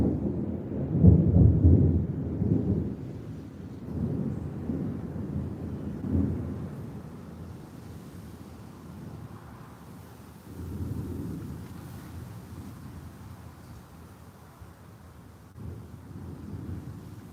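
Afternoon thunderstorm in Tampa, Florida: deep rolling thunder booms early and again midway, fading into a low rumble with faint rain and wind, no talking.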